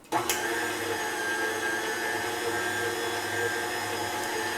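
A stand mixer running on flour and salt for pasta dough, a steady whirring motor hum starting with a short clatter and continuing evenly throughout, close and alone.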